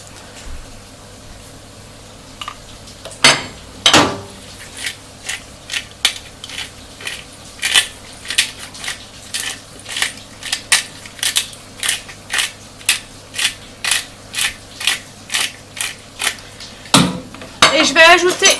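Courgette mixture being stirred in a pan, a utensil knocking against the metal in a steady, regular rhythm of close, sharp clinks, with a few louder scrapes near the start and end.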